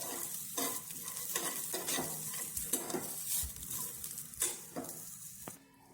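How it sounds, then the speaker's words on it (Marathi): Coconut slices, ginger and garlic are sautéed in a small pan on a gas stove, steady sizzling broken by repeated rhythmic spatula scrapes and clinks against the metal, close and alone. "इकडे दुसऱ्या गॅसवर छोट्या पॅनमध्ये खोबऱ्याचे काप, आलं आणि लसूण आहे ना परतून घेऊ राहिले."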